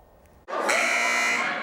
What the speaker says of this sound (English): That buzzer kicking off a fierce competition.